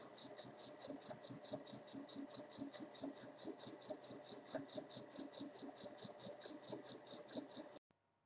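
A sewing machine topstitching both sides of a small fabric bag, running in a fast, steady needle rhythm for several seconds close up, then stopping abruptly near the end.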